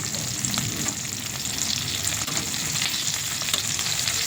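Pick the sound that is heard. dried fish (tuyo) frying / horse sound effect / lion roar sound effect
dried fish (tuyo) frying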